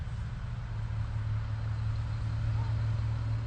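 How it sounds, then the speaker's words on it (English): Trucks passing outside a room where a reading is being recorded, heard as a continuous low engine rumble and steady traffic drone throughout, moderately loud, with no speech over it. "Sorry, the trucks."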